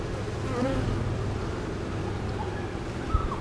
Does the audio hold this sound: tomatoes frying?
no